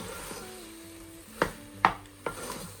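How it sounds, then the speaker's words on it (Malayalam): Soybeans being stirred in a pot for soya rice, with a few sharp scraping knocks of the spoon against the pot over a low background hum, spaced unevenly and fairly close. "നല്ലപോലെ ഇളക്കി യോജിപ്പിച്ചുകൊണ്ടിരിക്കണം കേട്ടോ"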